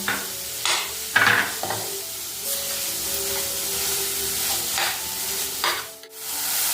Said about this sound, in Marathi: आता हे मिश्रण कोरडं होईपर्यंत चांगलं परतून घ्यायचं